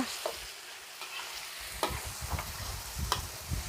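Minced beef tipped into a hot pan with oyster sauce, sizzling and frying close up while a utensil stirs it in a few sharp scrapes and clatters.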